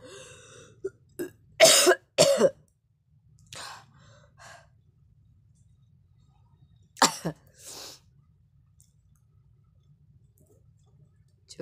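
A person coughing in short bursts, a couple of sharp coughs, then a softer throat-clearing and breath, and another pair of harsh coughs, close and alone against quiet.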